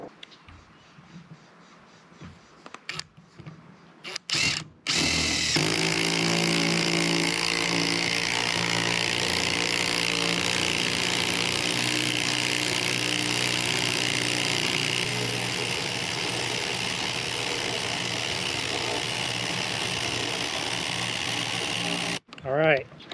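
A Walmart impact driver sinks a lag bolt into a railroad tie, giving a loud, sustained, buzzing mechanical whir that runs unbroken for about seventeen seconds and then cuts off abruptly, after some brief clattering and handling noises.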